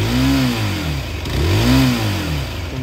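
FB Mondial Flat Track motorcycle engine revving up and down in two swelling bursts, loud and close, its pitch rising and falling with each blip of the throttle.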